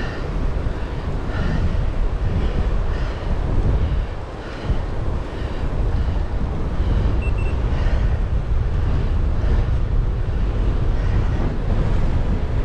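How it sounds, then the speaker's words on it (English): Strong wind buffets the microphone while road cyclists ride a country road toward a hill, a loud, continuous roaring rumble with gusty swells that covers everything else. "That is pretty windy."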